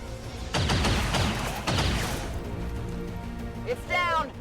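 Gunfire in the XCOM 2 video game, aimed at enemies: two loud, sharp bursts of shots ring out close, each followed by a decaying tail, then quieter game effects and a short electronic warble.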